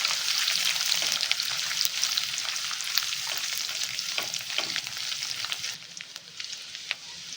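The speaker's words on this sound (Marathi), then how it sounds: "थोडंसं फ्राय करून घेऊ।" Ginger and a bay leaf fry in oil in a pan, making a continuous crackling sizzle with small pops and stirring scrapes up close, easing slightly toward the end.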